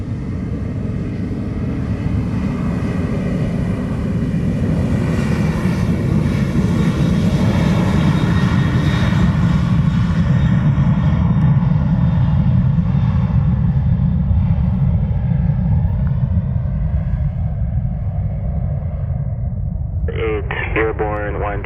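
An American Airlines jet takes off at Montego Bay, Jamaica, with a loud, steady engine roar that holds throughout, and a brief radio voice cuts in near the end.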